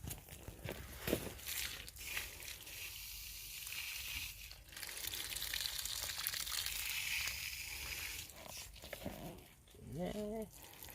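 A garden hose pours water onto newly planted hostas, a faint, steady hiss and patter close by on leaves and soil, with scattered crunching steps and a voice near the end.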